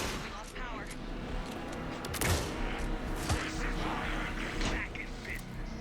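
Gunfire during a fight in Alan Wake II, rapid bursts of shots cracking through a busy, loud battle mix with voices talking over it.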